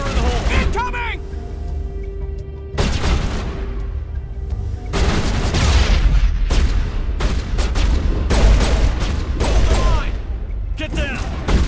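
Combat in Mass Effect brings dense, loud gunfire with a heavy grenade blast, shots crackling continuously while voices shout over the noise.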